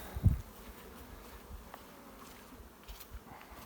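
Honeybees buzz around a beehive in a steady, faint hum, with one brief louder pass close by at the start and no voices.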